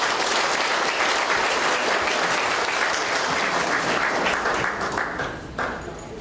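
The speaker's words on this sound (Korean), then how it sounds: "다시 한번 큰 박수 부탁드립니다." A crowd at an outdoor mayoral election campaign rally in Suncheon applauds loudly and steadily, the dense clapping fading near the end.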